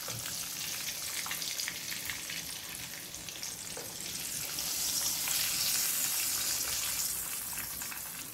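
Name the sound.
drunken shrimp frying in a pan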